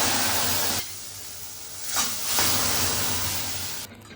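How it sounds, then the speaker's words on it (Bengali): Dried red chillies and mustard seeds hit hot oil for tempering mango dal, giving a loud, steady broadband sizzle and hiss that eases slightly after the first second, with no voices. "ফোড়নের জন্য শুকনো লঙ্কা, একটুখানি সর্ষে ফোড়ন দিয়ে দিলাম।"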